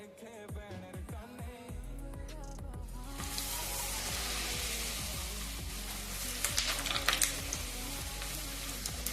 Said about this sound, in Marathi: छान असं तेल तापलं आहे, तर आपण पुऱ्या तळून घेऊया